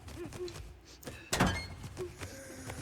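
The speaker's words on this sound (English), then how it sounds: "When you select the grenade, she automatically pulls out and throws it." A grenade is thrown in The Killing Antidote video game, with a single sharp thunk and burst near the middle of the clip, set among faint game sounds and small interface tones.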